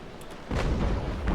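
A ship's cannon fires in the naval combat game Naval Action, a sudden deep boom that breaks a quiet moment and rolls on as a loud, sustained rumble.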